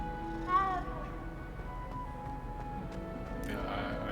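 A cat meows once clearly in the Hogwarts Legacy game world, over a soft ambient music bed and low background tone, with a brief rise in sound near the end.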